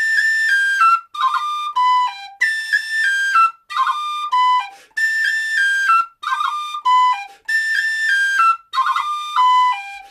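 Tin whistle plays a lively Irish reel, repeating a short phrase decorated with a quick crown ornament, bright clear notes in separate bursts with short pauses between, close and alone.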